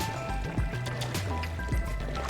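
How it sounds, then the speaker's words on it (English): Footsteps splash through water in Subnautica: Below Zero, a steady run of wet sloshing steps with gurgling and liquid churning, close and continuous. "Why does it sound like I'm just running around in water?"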